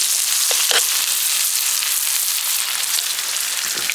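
Steady, loud sizzling of mushrooms frying in garlic butter in a pan over a fire in a forest, a continuous crackling hiss with a few brief pops, no voices.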